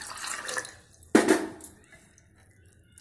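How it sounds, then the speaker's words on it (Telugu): Water poured into a simmering kitchen preparation, two splashy bursts, the second sharper and louder, then fading into quiet. "ఇంకా కొంచెం వాటర్ వేద్దాము"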